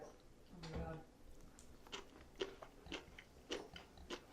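Close-up crunchy bites and chewing of raw carrot with a little ginger and soy, outdoors on the Irish coast, a burst of crisp crunches followed by softer rhythmic chewing, with a voice briefly audible.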